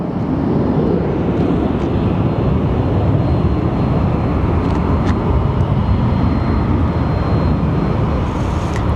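Heavy jet cargo planes at Phoenix Sky Harbor airport produce a loud, continuous engine roar that stays strong and unbroken, close and dominating with no voices over it.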